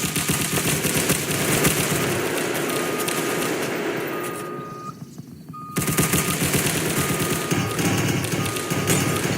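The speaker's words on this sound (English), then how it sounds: "someone's shooting us" Gunfire erupting in the Roblox game Ro-Nations, dense rapid shots and thuds filling most of the clip, with a brief lull midway before the loud shooting resumes.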